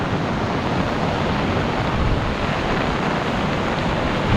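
A dense, roaring wash of heavy rain and strong wind during a Signal No. 3 typhoon, with a swollen river rushing nearby, loud and unbroken with no talk.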